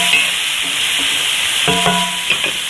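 Chopped onions and garlic sizzle in meatball pan drippings under a constant bright hiss, while a spoon stirs them with a few scraping clacks against the pan.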